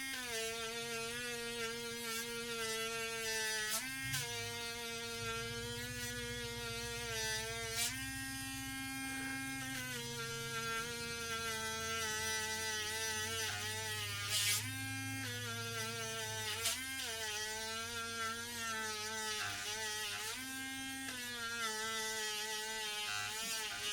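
An electric buffer polishes guitar frets to a mirror luster, giving a steady, close motorized whine with a bright harmonic drone that holds throughout, its pitch dipping briefly now and then as the wheel loads against the metal.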